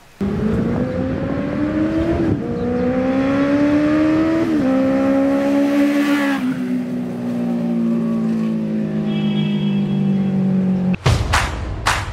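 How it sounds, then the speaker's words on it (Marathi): A Benelli 600i motorcycle's engine note climbs through several rising revs between gear shifts as it passes, holding a strong tone before fading, with a sharp burst of noise near the end. "एक फ्लायबाय देतो गाडीचा, म्हणजे तुम्हाला पण कळेल की गाडीचा साऊंड कसा आहे"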